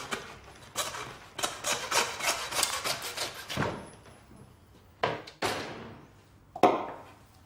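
A butcher cuts through the knuckle joint of a lamb shoulder, giving a run of close rasping, scraping strokes like a knife or saw working against bone, then a few separate sharp scrapes after a brief pause.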